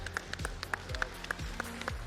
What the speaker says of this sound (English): Huge round of applause to Spazdo7.